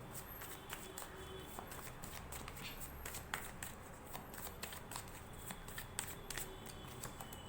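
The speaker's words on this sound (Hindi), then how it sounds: "जब तक मैं शफलिंग कर रही हूँ प्लीज़ फोकस बनाकर रखिए" Tarot cards being shuffled by hand, a steady run of soft riffling and papery flicks with small taps throughout, fairly close but quiet, with no speech over it.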